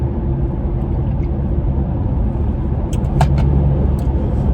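Low, steady engine rumble fills a car's interior, droning evenly throughout with a brief faint rattle near the end.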